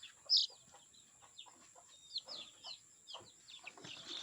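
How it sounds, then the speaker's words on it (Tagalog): A batch of fifty chicks peep in quick, high, repeated chirps, some nearer and louder, overlapping in an irregular chatter. "meron tayong 50 na sisiw."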